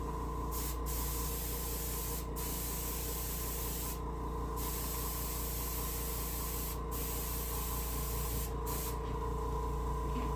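Steady airbrush hiss spraying paint on a brook trout taxidermy mount at close range, with brief pauses in the spray and a faint rhythmic mechanical hum underneath.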